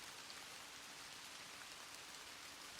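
Heavy rain falling in a steady, dense hiss that stays even and unbroken throughout, soft in level, with no voices or other sounds.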